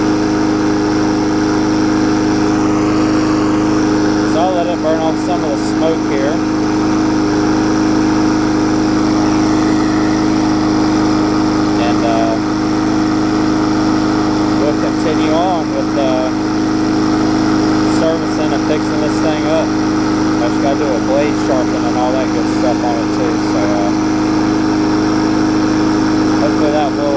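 A lawn mower with a swapped-in engine runs steadily after starting on the first pull, a loud continuous close drone with a constant pitch and faint clattering on top, alone with no talk.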